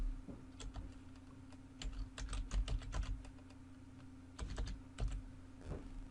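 A computer keyboard is typed on in short, irregular bursts of close clicking keystrokes while an email and password are entered, with pauses between the bursts over a faint steady hum.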